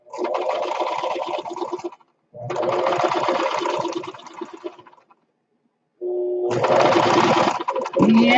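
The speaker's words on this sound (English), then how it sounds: "And I'm going to sew a seam around it." Sewing machine stitching a seam on quilt fabric for 3D quilt flowers, with close, buzzing runs of rapid stitching in three bursts separated by short pauses.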